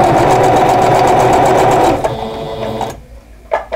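Sewing machine stitching a Christmas quilt top, a steady fast whirring run for about two seconds, then slowing to a few separate stitches before stopping, close and loud.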